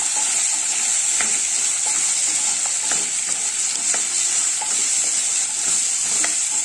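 Carrot pieces frying in a pan over a medium flame, a steady bright sizzle with occasional soft clicks of stirring against the pan, close and continuous with no talk.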